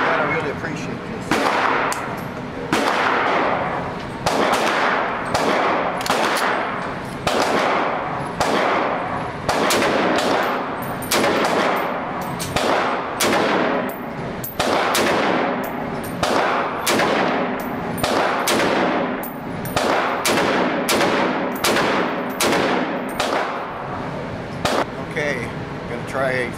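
A SOCOM 16 rifle fired with a 20-round magazine, loud sharp gunshots repeating in an irregular steady series of around two dozen reports, each with a quick ringing tail, close to the listener.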